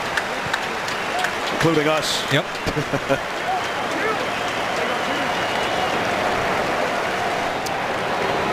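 A stadium crowd claps steadily for an injured player walking off the field at a 2012 NFL game, Cardinals at Rams, a broad, continuous wash of applause with a commentator talking over it.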